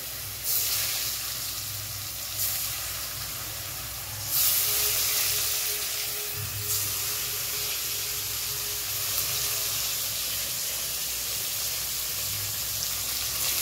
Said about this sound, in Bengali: পনিরগুলোকে ভাজবো, একটু কড়া করে ভেজে নেব